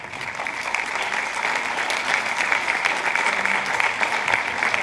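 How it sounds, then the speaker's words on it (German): An audience at a film gala claps steadily, dense applause from many hands filling the hall at an even level without a break. "Applaus."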